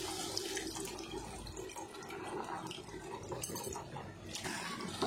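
Tamarind water is poured into a curry masala for a postpartum medicinal kuzhambu, giving a steady splashing, gurgling pour that runs continuously for several seconds, close and fairly loud.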